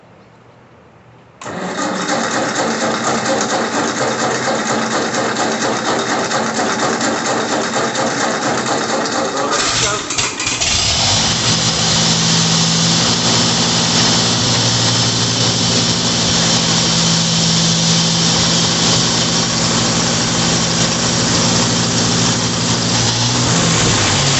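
A Ford NAA tractor engine cranks after a quiet moment, catches about ten seconds later and settles into a loud, steady, slightly rough idle that runs on, close by.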